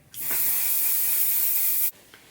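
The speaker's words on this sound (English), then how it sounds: "And then our final spray" Makeup setting spray misted onto a face in one steady, close hiss lasting nearly two seconds, starting and stopping abruptly.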